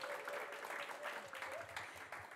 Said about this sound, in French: Il y a Monique et Volker, on peut les applaudir,